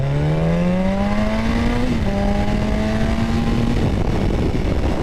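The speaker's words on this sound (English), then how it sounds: "let me kind of let it go and kind of pull the throttle a little bit" A 2008 Yamaha FZ1 motorcycle accelerating hard under pulled throttle, its engine note rising steadily through a gear, briefly dipping at a shift, then climbing again, loud and close over steady wind rush.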